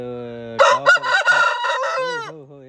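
A single loud rooster crow rings out close by, rising and holding before trailing off, with no other sounds around it.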